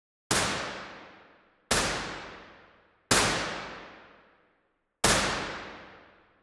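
Four identical sharp test hits run through a stereo studio reverb plugin, each followed by a long, smooth reverb tail that fades out before the next one, evenly spaced and with no talk.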